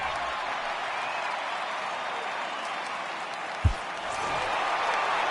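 A home crowd in MLB The Show 2022 cheers and applauds as a steady broad roar, with commentary talk over it and a single thump partway through.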